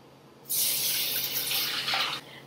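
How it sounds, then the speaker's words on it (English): Tap water pouring into a pot of rinsed grains, a steady splashing rush that starts abruptly, runs for under two seconds and stops, fairly quiet and close. "Then of course, add your water."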